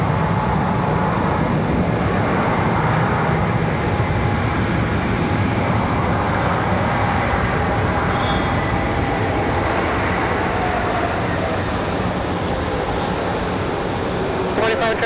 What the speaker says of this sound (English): I was wondering if he was going to use any reverse thrust for our A220.